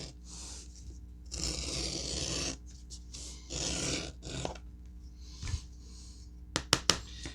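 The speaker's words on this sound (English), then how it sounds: "the reason I'm beveling it is because I want a rounded" A beveling tool scrapes along the edge of a leather kilt strap in close, hissing strokes of a second or so each, separated by pauses, ending with a few sharp taps.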